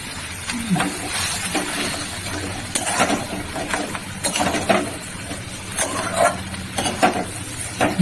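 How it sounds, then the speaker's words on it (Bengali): Tomato masala for rice biryani being stir-fried in a pan. A continuous low sizzle runs under repeated scraping and clattering strokes of a spatula against the metal, with faint background voices. "এবার এটা কষাবো, ভালো করে কষাবো, দিয়ে দেবো।"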